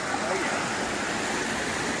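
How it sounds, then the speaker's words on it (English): A waterfall inside a Canadian aquascape store roars as a steady, dense broadband rush of falling water, close and loud, unbroken for the whole stretch with no speech. "Had a little shower in underneath the waterfall."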